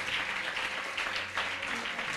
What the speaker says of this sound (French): Est-ce que nous sommes capables d'applaudir Pasteur Mackinson avec Madame Ni?